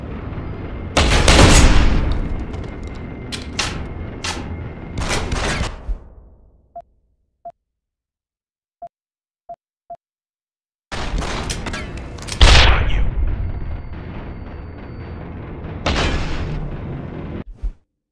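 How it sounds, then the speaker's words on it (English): Gunfire in Deus Ex: Human Revolution, loud bursts of shots and booming blasts at the start, a stretch of near silence broken by a few faint clicks, then another heavy volley of firing and explosions. "Someone's shooting."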